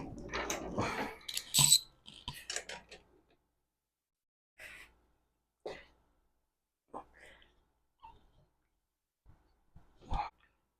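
A ratchet works on the axle nut of a 1978 Honda XR75 motorcycle, giving short bursts of clicking and metallic effort, followed by scattered quieter clicks and clunks separated by silence.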